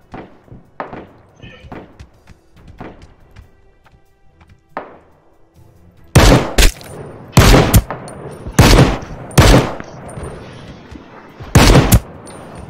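Gunfire in the video game Ring of Elysium near a lumberjack's house: after quieter taps and footsteps, a burst of loud, sharp shots rings out in quick clusters, with a voice talking over parts of it.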